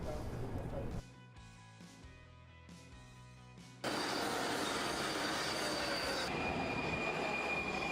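A Prague metro train at a green A line station rumbles and screeches on its rails, quieter briefly before surging into loud, sustained wheel squeal and running noise as it moves through, with some talk under it.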